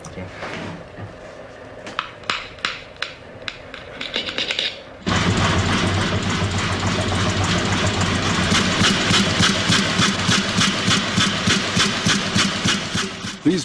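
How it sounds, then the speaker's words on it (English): Single-cylinder horizontal oil engines compress air for a lighthouse diaphone fog signal, first irregular clanking knocks, then a loud close steady rhythmic chugging that runs on continuously. "These beautiful single-cylinder horizontal oil engines compress the air for the diaphone fog signal."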